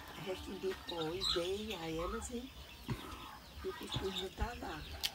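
Chickens and chicks on a small farm: close, repeated clucking and warbling calls in short runs, with a person talking over the birds.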